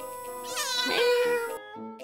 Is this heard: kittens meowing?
yes